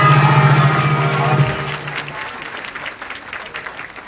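An audience applauds a student band at a school sports meet opening ceremony, a dense patter of clapping that starts right after the band's closing notes, then gradually thins and fades.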